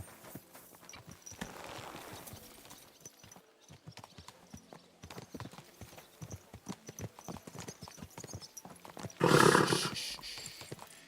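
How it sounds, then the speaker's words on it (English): Horse hooves clip-clop at a steady riding pace in Kingdom Come Deliverance 2, a continuous rhythmic patter lasting the whole stretch, with one louder burst of horse noise near the end. "Easy, good horse."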